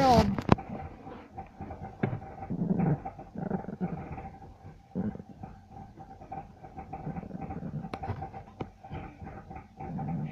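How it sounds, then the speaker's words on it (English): A pet dog growls low and whimpers in a home, intermittent rumbling and soft whines up close, mixed with people talking. "Are you a good dog?"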